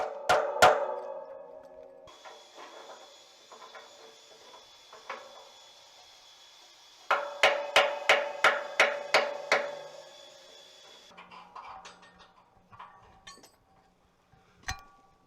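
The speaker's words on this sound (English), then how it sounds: "The hammer and chisel was tried on the smoke box" Hammer and chisel striking a steam locomotive smoke box, loud metallic clinks in a rapid run of about eight regular blows mid-clip, with scattered scraping and lighter taps before and after, no talk.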